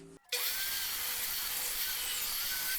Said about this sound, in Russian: Детальки высохли. Пилим в размер.